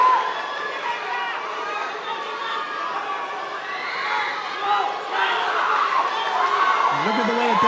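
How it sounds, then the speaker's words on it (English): A boxing arena crowd at a professional bout roars and cheers steadily for both fighters, a dense, loud wash of many voices that swells near the end. "Now the crowd all of a sudden awake and cheering both these fighters."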